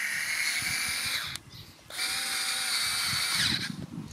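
A cordless 4V electric screwdriver whines in two bursts at a factory-tightened screw, its motor pitch sagging under load, with a short pause between runs and a faint clicking underneath.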